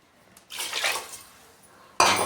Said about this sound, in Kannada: ಅಕ್ಕಿ ಬೇಳೆ ಎಲ್ಲ ಬೇಯೋಷ್ಟು ನೀರು ಹಾಕ್ಕೋತಾ ಇದ್ದೀನಿ